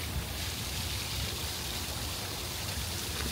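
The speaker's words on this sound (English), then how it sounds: "I wanted to show you this cool little waterfall right behind me." A small waterfall at a resort beside a mini golf area pours in a steady, dense broadband rush of falling water, close and continuous throughout with no break or voices.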